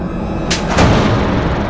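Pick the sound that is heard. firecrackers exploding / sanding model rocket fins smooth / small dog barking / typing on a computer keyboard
firecrackers exploding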